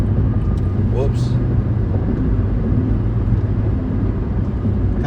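A truck driving past on the road outside, a loud, steady low rumble filling the whole stretch beneath ongoing conversation.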